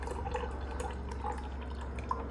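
A Philco side-by-side refrigerator's door water dispenser, with soft trickling and dripping water running quietly and steadily at close range, ending in a single small drip, no talking.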